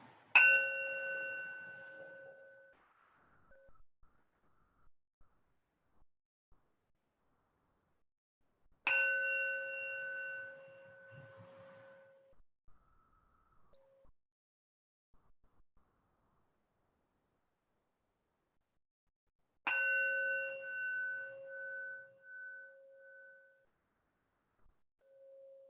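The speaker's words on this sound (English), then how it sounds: "Hearing the bell." A meditation bell is struck three times, roughly every ten seconds, each clear metallic ding ringing out and slowly fading into near silence before the next strike.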